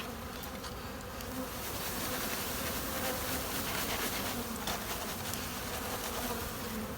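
Honey bees buzz steadily as a package of them is shaken out into a new hive, a soft, dense, continuous drone close by with small swells in intensity.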